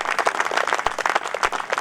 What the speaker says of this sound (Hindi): एक बार और तालियां बजाइए